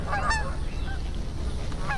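A flock of wild ducks honks and calls repeatedly as a sound effect in an audio suspense story, several nasal cries overlapping against a steady low rumble, moderately close and loud.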